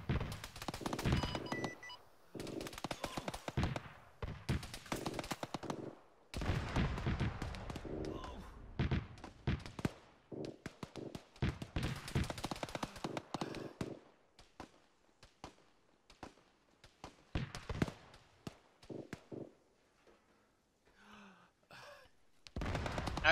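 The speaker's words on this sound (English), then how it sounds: "They shoot through the building." Bursts of automatic gunfire rip through an office building in a military air assault shooter game, loud rapid volleys with short pauses that thin out toward the end.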